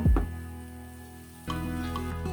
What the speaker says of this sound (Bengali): এখন আমি সবজিটা দিয়ে দেব